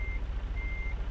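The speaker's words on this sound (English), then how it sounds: "No, don't beep at me. No beeping allowed." A truck's reversing alarm beeps in American Truck Simulator, two steady high tones over a low engine idle, close and clear with no talk.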